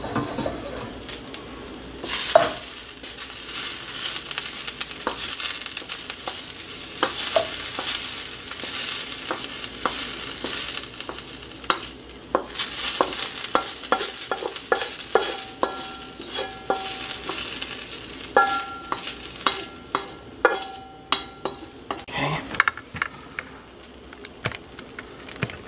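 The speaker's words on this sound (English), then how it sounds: "Okay, let's mix it in." Garlic, kale and sausage sizzle and fry in a pan while being stirred, with a steady loud crackle and frequent utensil scrapes and clicks against the pan, no voices present.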